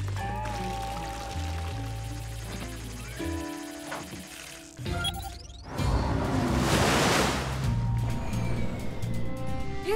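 A cartoon water cannon on a sea rescue adventure blasts a broad, loud rushing spray that swells midway and continues steadily, mixed with music and effects.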